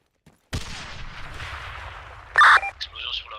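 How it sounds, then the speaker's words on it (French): A sudden loud blast hits after a moment of quiet, followed by rumbling debris and a sharp burst of noise, an explosion at the rear in the video game Arma 3 during a co-op mission. "Explosion sur l'arrière."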